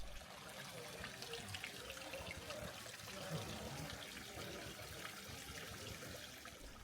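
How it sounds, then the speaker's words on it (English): Water trickles and tumbles continuously at a low, steady level in a Japanese garden, a soft outdoor burble with faint background noise. "you can hear the water tumbling down, and it's so calming"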